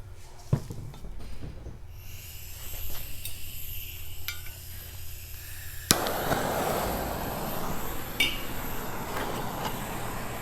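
A piece of copper burning in synthetic blend motor oil, heard as crackling and sizzling with scattered sharp pops, quieter at first, then a sudden flare into a louder, denser steady hiss.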